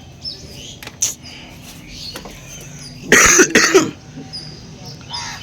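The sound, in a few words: coughing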